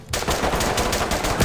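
Rapid automatic gunfire in the tactical shooter Ready or Not during a home invasion mission, a loud, continuous burst of closely spaced shots filling the whole moment with no talk.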